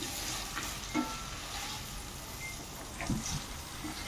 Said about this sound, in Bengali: পেঁয়াজগুলো আমি তেলের সাথে ভালো করে ভেজে নিচ্ছি